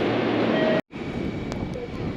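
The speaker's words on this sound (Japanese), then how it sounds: "ホームには急行吉良吉田行きの電車が入線してきました" A Meitetsu express train bound for Kira-Yoshida pulls into a station platform, a steady loud rumble of rolling stock with a brief cut partway through, faint squeals and voices mixed in.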